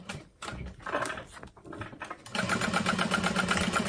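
A sewing machine runs steadily while back stitching a handbag, a continuous mechanical whir that grows louder and denser after a few shorter, uneven bursts of stitching.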